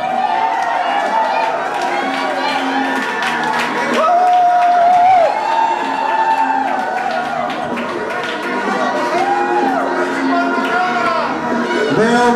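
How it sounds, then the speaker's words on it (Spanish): A crowd at a motorcycle anniversary party screams, whoops and applauds, loud and sustained, with shrill cries rising over the roar and cheering and clapping that swell and fade across the stretch. "alaridos y aplausos"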